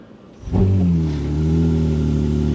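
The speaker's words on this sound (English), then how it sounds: "Listen to this Ferrari leave. Take it out of hybrid mode." A Ferrari sports car engine starts up and revs, settling into a loud, deep, steady drone close by.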